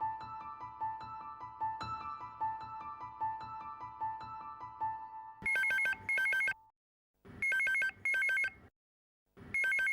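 A telephone rings in a household sitcom scene, with repeated bright electronic ring bursts in a steady pattern over soft background music that fades as the rings take over, clear and close.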